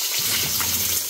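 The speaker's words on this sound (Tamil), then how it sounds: "தண்ணி வருது" Water gushing steadily from a newly dug well in Sri Lanka, a loud continuous broadband rush filling the whole short moment with no pause.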